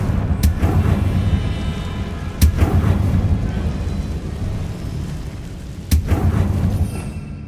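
Confringo blasting spells are cast repeatedly in Hogwarts Legacy, giving three sharp, cracking explosions about two to three seconds apart over a low rumbling background.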